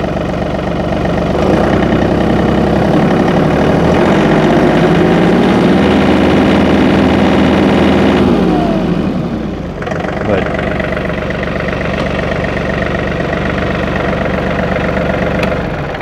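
A John Deere 3043D compact tractor engine climbs steadily in pitch as it is revved with the PTO engaged, holds high, then falls back to a steady, loud, nearby idle.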